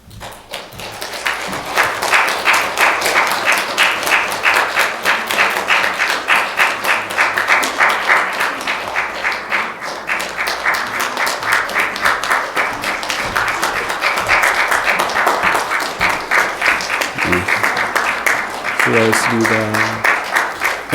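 Sustained applause from a church congregation at a New Year's Eve Sunday service in London, honoring a plaque presentation; steady dense clapping fills the room for about twenty seconds, with a brief voice near the end.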